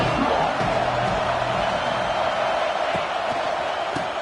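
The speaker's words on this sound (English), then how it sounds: "This crowd trying to make life miserable for this offense." Stadium crowd in a football video game roars in a constant dense wash of noise, steady and loud throughout with no clear cheers standing out.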